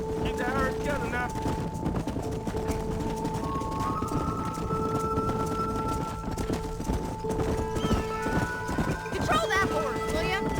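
Steady clip-clop of galloping hooves throughout, with occasional horse whinnies and background music and voices, from the video game Red Dead Redemption while herding cattle on a ranch.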